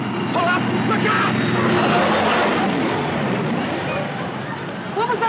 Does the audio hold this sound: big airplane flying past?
yes